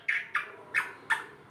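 A green ringneck parrot gives a series of four sharp, shrill squawks in a steady rhythm, close and fairly loud, with short pauses between calls and no talking underneath.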